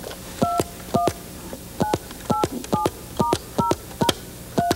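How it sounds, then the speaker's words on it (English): A touch-tone telephone is dialed, producing about ten short, clear two-tone beeps in a quick, slightly uneven sequence, close and loud with no talking. "Go ahead. You can dial a number on that one."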